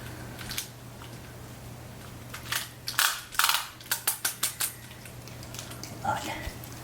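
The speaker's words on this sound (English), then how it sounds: "you're just gonna turn it clockwise till you hear it click" A mechanical torque wrench is turned on a car's wheel nuts after a brake change, giving a run of short, sharp metallic clicks close by, several in quick succession amid ratcheting and handling noise.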